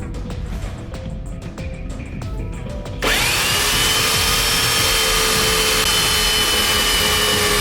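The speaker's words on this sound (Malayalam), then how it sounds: "ഇതേ രീതിയിൽ രണ്ട് പട്ടിക വെച്ചിട്ട് നമ്മൾ സ്ക്രൂ ചെയ്ത് പിടിപ്പിക്കുകയാണ്" A power drill drives screws through wooden planks onto a plastic boat, starting with short stuttering bursts and then a loud, steady, continuous whine that runs on without a break.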